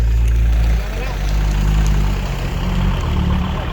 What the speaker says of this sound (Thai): เอารถไถออก